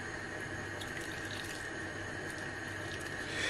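Water poured into a dough mixture of salt and seed oil, a steady, continuous splashing stream close by with no talk.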